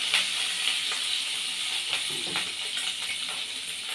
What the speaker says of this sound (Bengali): এখানে তেলটা গরম হয়ে গেছে, এবার আমি একটা একটা করে ডিমগুলো ছেড়ে দেব